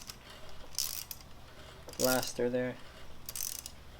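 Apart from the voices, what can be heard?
nut coming loose on 2012 Nissan Sentra strut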